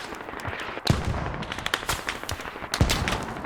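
Gunfire in the video game Squad, with bursts of sharp rifle shots, two heavy cracks standing out among rapid scattered reports in a loud, continuous battle mix.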